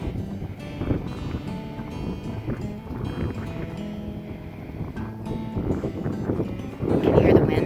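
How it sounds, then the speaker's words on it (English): Wind blowing in Logan Canyon, a steady close rumbling buffet that swells into a stronger gust near the end, with a voice faintly present. "You can hear the wind."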